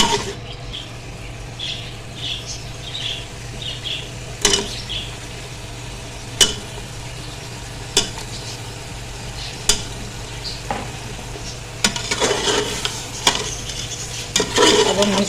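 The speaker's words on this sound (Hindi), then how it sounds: "और अब हमने इसको अच्छे से भून लेंगे, इसको मिक्स करेंगे और साथ ही इसमें डाल देंगे पाए" Goat trotters sizzle in frying masala while a ladle stirs them, giving periodic sharp scrapes and knocks against the pot over a steady low hum, close and clear, with busier stirring toward the end.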